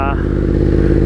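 A Yamaha MT-10 motorcycle engine fitted with a full Yoshimura exhaust runs loud and close, with a steady pulsing rumble and no change in pitch over about a second.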